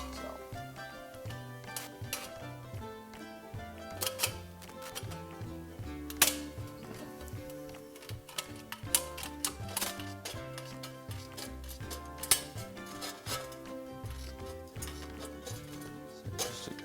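Tin snips cut through sheet metal for a wood-burning backpacking stove, giving a steady run of sharp, irregular clicks and snaps close by, fairly quiet, with no talk over them.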